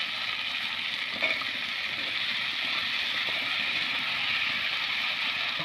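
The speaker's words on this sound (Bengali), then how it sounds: "এবার দিয়ে দিচ্ছি সেদ্ধ করা কাঁঠাল" Boiled jackfruit sizzles steadily in hot oil with spiced masala in a pan, a constant close frying hiss with faint stirring clicks and no talk.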